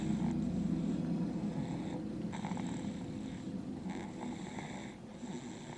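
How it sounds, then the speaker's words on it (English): A man asleep after a Thanksgiving meal snores steadily, close and fairly quiet, with slow rhythmic breaths repeating under a constant low rumble. "Listen for the snoring."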